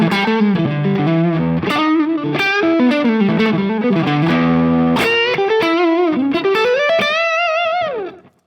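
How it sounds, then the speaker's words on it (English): Distorted electric guitar through a Kemper amp with delay plays a melodic phrase with echoing repeats trailing each note, loud and sustained, ending on a bending held note that fades. "Let's just give it a bit of distortion."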